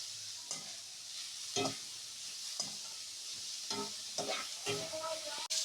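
Carrots added to a frying pan for chicken box patties crackle and sizzle, with repeated scraping stirs and clatters close by and a sharp knock at the end.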